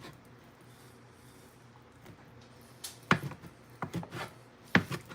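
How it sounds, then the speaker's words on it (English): A knife chops chicken into strips for CHamoru chicken kelaguen, with quiet cutting at first, then a few sharp, close board strikes in an uneven rhythm. "chopping it up into strips, and then what I'll do is I'll take it and chop it up the other way."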